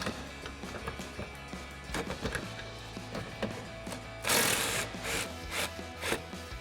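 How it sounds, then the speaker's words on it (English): A ratchet with an 18mm swivel socket works a bolt loose on the upper shock mount of a Jeep Gladiator JT, a series of close metallic clicks and knocks with a brief louder rattling burst. "we're going to grab that 18mm swivel socket and remove our bolt"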